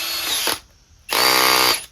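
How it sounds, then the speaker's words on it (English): A DCK 20V cordless impact hammer drill revs up close and loud in two bursts, a whining half-second run, a brief pause, then a longer steady spin that winds down. "Because it also has the ability to insert drill bits in it, it works as a drill too."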